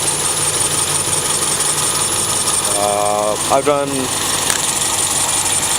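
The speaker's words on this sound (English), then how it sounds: "Sounds like serpentine belts squeaking" Honda CB7 Accord engine idling after a cold start with a steady, rumbling idle, while a brief squealing chirp from the serpentine belts rises briefly midway; someone talks over the engine.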